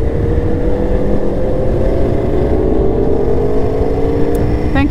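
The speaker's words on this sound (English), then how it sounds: "is that a Supra? Sure is. Sounds great." A Toyota Supra engine drones steadily with a low rumbling exhaust, rising slightly in pitch as it passes nearby, loud throughout.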